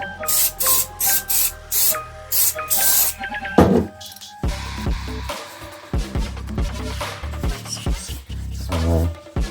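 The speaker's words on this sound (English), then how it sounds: "like to give everything a good spray down. So again, bit of silicone shine." Several short hissing bursts of silicone shine aerosol spray on Specialized Rockhopper bike parts in quick succession, then quieter clinks and handling noises close by.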